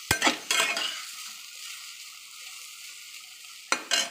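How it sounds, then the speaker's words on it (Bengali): Soybean chunks fry in hot oil in a pan, with a steady sizzling hiss between a few sharp clanks of a spatula stirring against the metal at the start and end, close and fairly quiet. "তেলটা গরম হোক, সোয়াবিনটা ভেজে নেব"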